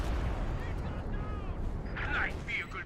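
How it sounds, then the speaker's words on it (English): An artillery barrage in the video game Company of Heroes 2 rumbles as continuous low, booming shell fire under a caster's voice, with a few whistling and crackling effects. "I think he got a pretty good barrage there."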